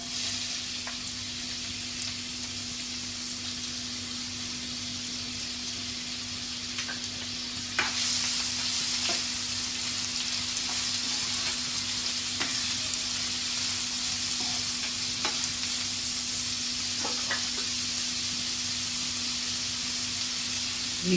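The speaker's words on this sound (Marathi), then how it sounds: "तेल थोडं गरम झाले आपण कांदा घालूया" Onion frying in hot oil in a pan, a steady close sizzle that swells louder and denser partway through and continues as a constant crackling hiss with occasional light pops.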